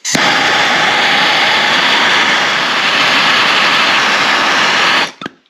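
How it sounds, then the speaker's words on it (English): A MAPP gas torch burns in a steady, loud, close roaring hiss while heating cut masonry nails into a key hook, starting and stopping abruptly. "Heat it up with your map gas."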